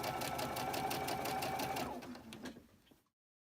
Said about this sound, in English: You want your machine to slowly feed it for you.